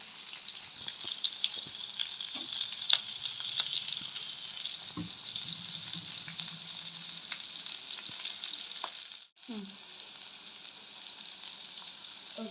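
Onions and curry leaves sauté in oil for a Jaffna prawn curry meal, a soft, steady sizzle with scattered crackles and occasional utensil scrapes, briefly cut off then resuming.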